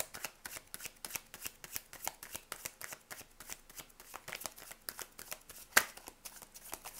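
Tarot cards shuffled by hand, a long run of quick papery riffles and soft flicks in an irregular rhythm, close and fairly quiet, with one sharp louder snap partway through.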